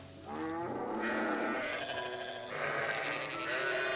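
Sheep bleating and a cow mooing on a farm in the anime Vinland Saga, several loud, drawn-out animal calls overlapping close by with no talk.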